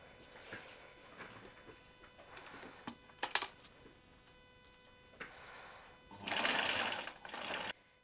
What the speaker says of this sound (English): now it's time to zigzag both pieces